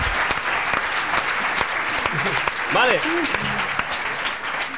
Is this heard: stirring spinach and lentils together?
no